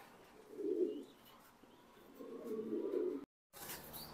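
Racing pigeons kept side by side in cages give two soft, low cooing phrases, the second longer, with a brief silent gap before faint noise resumes.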